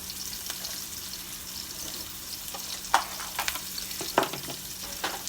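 Onions fry in a pan, a low steady sizzle with a handful of sharp utensil clicks and scrapes toward the end, close up and with no talking.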